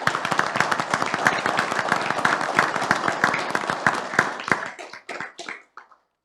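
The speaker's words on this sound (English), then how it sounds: "Let's give them a big round of applause." Applause from an audience at a city commission meeting, dense clapping for several seconds that thins into scattered claps and stops.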